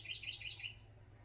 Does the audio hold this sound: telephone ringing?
no